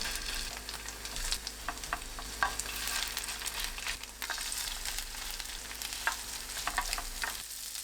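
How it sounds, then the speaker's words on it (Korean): Eggplant and tofu patties pan-fry slowly on low heat in a preheated oiled pan, giving a soft, steady sizzle with light intermittent crackles. The sound is faint and close, with no talking. "약불로 천천히 부칩니다."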